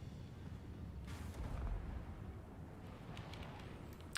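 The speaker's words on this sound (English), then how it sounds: "So the Zamzat cannons coming forward, all going to shoot and miss there" Zamzat cannons fire during a multiplayer battle in the video game Total War: Warhammer II, heard as a quiet, continuous low rumble with muffled booms that swell slightly partway through.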